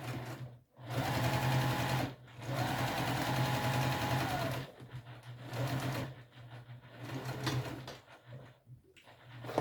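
A home sewing machine stitching two long parallel seams with backstitching at start and stop: steady close whirring runs in bursts with short pauses between, no talking.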